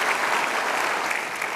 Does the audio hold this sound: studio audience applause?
yes